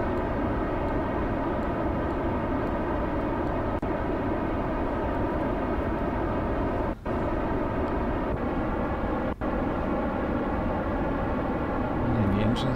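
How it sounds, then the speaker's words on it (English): In Kerbal Space Program, a rocket engine roars in a steady, dense drone that shifts in tone, with a couple of brief dropouts along the way. "The engine sound changing."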